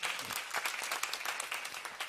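Congregation clapping in a Tamil Christian church service, a steady, fairly faint patter of many hands sustained for a couple of seconds without speech.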